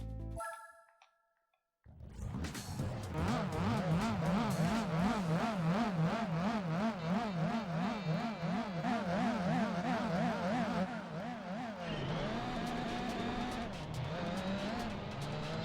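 A Mitsubishi Evo 4 race car in Gran Turismo 4 revs hard after a brief silence, its engine note climbing and shifting through gears with some tire squeal, loud and steady throughout.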